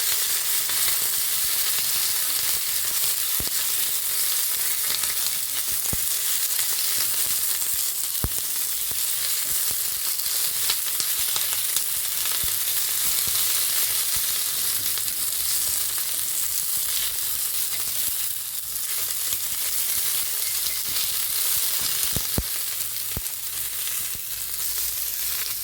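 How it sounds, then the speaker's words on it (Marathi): Green chillies frying in a little oil on a hot griddle for crispy mirchi, a loud, constant close-up sizzle with occasional sharp pops and crackles, no talking. "तर सर्व आपण थोडंसं परतून घेऊया गरम तव्यावरती."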